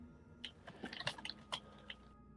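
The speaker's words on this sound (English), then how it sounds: "I'll occasionally be muting myself on and off as I chew something crunchy by my mic" Crunchy chips chewed right beside a microphone, a close run of sharp irregular crunches and bites lasting about two seconds, alone with no talk.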